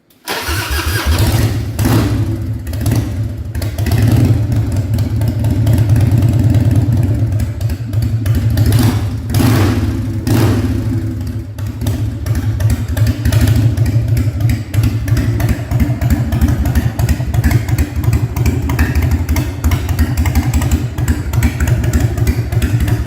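A 1998 Harley-Davidson Fat Boy motorcycle engine, already warmed up, idles loudly and steadily up close, its deep uneven rumble continuing throughout with occasional slight surges.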